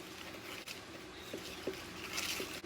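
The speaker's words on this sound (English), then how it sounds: "And give it a quick whisk until everything's well incorporated." A whisk stirs a lemon glaze of powdered sugar, fresh lemon juice and vanilla extract in a bowl, giving close, light scratchy taps and scrapes over soft background hiss, with no talking.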